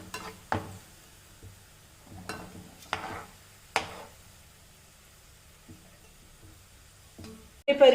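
Fried chicken for biryani is lifted out of hot oil with a scoop, soft scrapes and clinks against the pan over a faint background sizzle, a few scattered taps then a louder clatter at the end; no talking.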